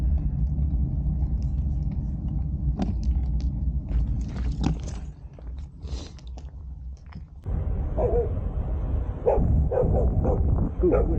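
Dogs bark near a rural road during a New Year's cycling ride through a French valley, a few sharp barks standing out over a constant rumble of wind and movement, with people talking.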